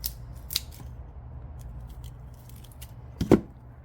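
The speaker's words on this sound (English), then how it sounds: "So I'm going to start my cut there." Dahlia tuber being cut apart with scissors, giving a few sharp snips and crunches spread out over a low background rumble, with a louder crunching cut near the end.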